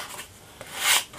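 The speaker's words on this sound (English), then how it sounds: "sanding sponge and just go over the cut edges just to remove any tear out" Soft rasping strokes of a sanding sponge rubbing over the cut wood edges of a scroll-sawn jigsaw puzzle, a few brisk back-and-forth passes up close.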